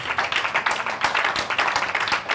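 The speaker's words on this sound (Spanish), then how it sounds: "Dele un aplauso a Jesús." A church congregation claps and applauds at a sermon, a dense run of hand claps that holds steady and close with no voices standing out.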